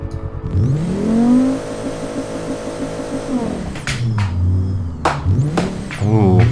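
Sports coupe engine in BeamNG.Drive revs up, holds a steady pulsing tone, then drops off with sharp crackling exhaust pops and further rev blips, loud and close.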